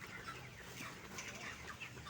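Broiler chickens, 32 days old and ready for sale, cluck in a steady low chatter that fills the whole short stretch, with no voices over it.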